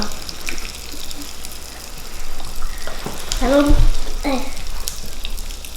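Pop Rocks crackle and fizz in soda, small pops under bubbling liquid, with a voice murmuring partway through; the pops thicken toward the middle before settling.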